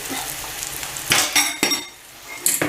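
Plantain frying in hot oil on a stove, a steady sizzle broken by a few sharp clinks and scrapes of a utensil against the pan, close and fairly loud with no talking.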